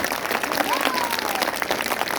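An audience applauds a political speech in Baltistan with a dense, even patter of clapping that holds steady throughout, while a voice speaks over it.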